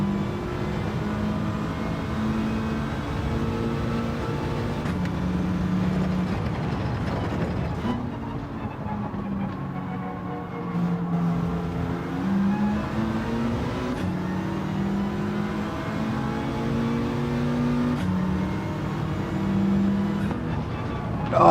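Race car engines in Gran Turismo 7 drone steadily for the whole stretch, their pitch rising and falling through gear changes as several cars run close together, with a voice talking over them at times.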